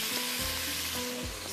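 Fried vegetables being mixed with sauces in a hot pan, a continuous close sizzle with a couple of soft scraping stirs.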